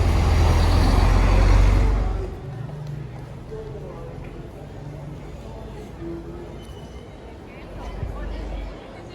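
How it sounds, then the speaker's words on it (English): A long bus rumbles heavily past close by on a street in Quito's old town, its deep engine roar fading after a couple of seconds into quieter city ambience with people talking and another engine swelling briefly later. "The long buses crossing Quito's old town."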